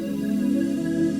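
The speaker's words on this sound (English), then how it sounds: "And then this is a flanger." Glass synth pad processed with a flanger effect in a stock-sounds RnB beat setup: a steady, sustained tonal chord with a shimmering, slowly sweeping texture, alone and fairly soft.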